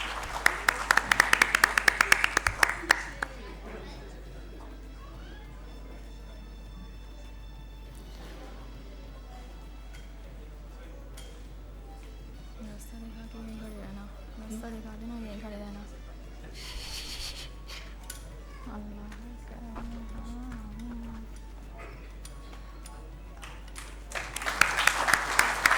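Audience applause welcoming a guest professor at a formal gathering, with loud bursts of many hands clapping at the start and again at the end, separated by a long quieter stretch of room noise and a steady low hum.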